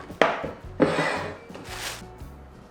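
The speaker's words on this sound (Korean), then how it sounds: "긴 거 있고 짧은 거 있으니까 이렇게 털어서 맞춰서 잘라주시면 돼요" A knife cuts through bunched garlic stems on a board for braised garlic scapes, three distinct close chopping strokes with brief rubbing between them.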